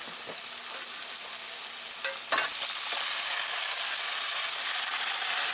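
Thick deep-dish pizza sauce cooks down in a hot pan, giving a dense, bright hissing sizzle that swells louder partway through after a stirring scrape, steady and close with no voices.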